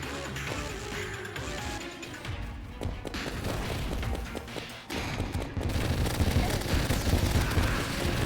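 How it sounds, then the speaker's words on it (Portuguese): Rapid bursts of energy-weapon fire from two Vortex guns in the game Terraria crackle densely over busy game music and effects, continuous and fairly loud, with no talking. "Fiz 2 armas do Vortex. Olha os tiros ali."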